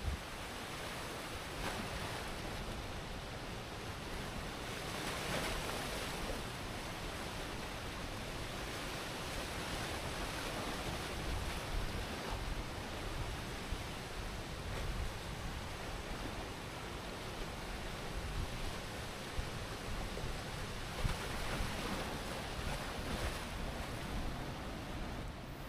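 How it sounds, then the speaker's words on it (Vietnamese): White water gushing from the spillway of the Tri An dam during a flood release, a steady, dense roar of rushing water and spray lasting throughout, loud and unbroken with no talk. "nước nó đánh trắng xóa luôn và nhìn giống như là một con thác chảy ra vậy"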